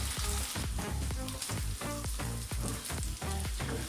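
Chicken malai boti fries on a tawa over low heat, a close, continuous sizzle and crackle with irregular popping throughout.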